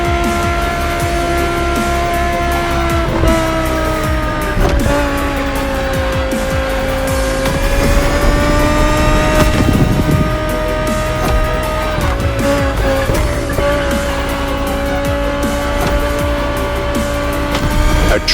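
A 2020 Audi R8 LMS GT2 race car in The Crew Motorfest racing game, its engine loud and continuous with rising and falling revs and gear shifts, plus tire squeal and skidding through corners.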